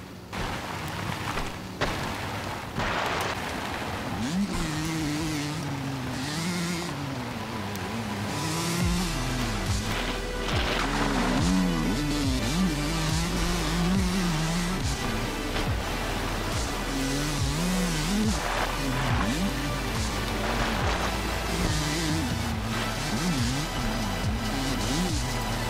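A dirt bike engine in the MX vs ATV Legends video game with a freshly installed top end, idling and then revving up and down repeatedly in rising and falling sweeps, loud and close against a steady background hum.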